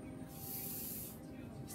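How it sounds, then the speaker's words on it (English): Hot water pours into a pitcher of pink lemonade and sugar, a soft, steady hiss of running liquid heard close at low volume. "So I'm going to add some hot water."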